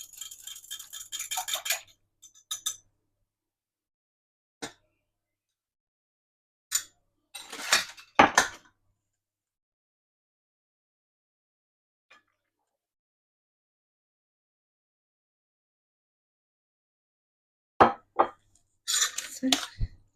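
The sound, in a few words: stirring lemon vinaigrette into stuffed mushroom filling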